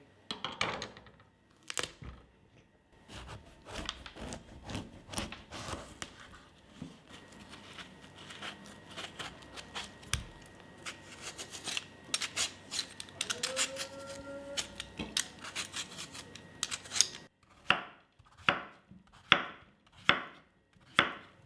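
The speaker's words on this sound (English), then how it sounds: "we will chop our Gourd into large chunky pieces and keep it aside" An ash gourd is chopped into large chunks with a knife on a board. Sharp irregular chops start dense and uneven, then finish as slower, louder, evenly spaced strikes, all close up.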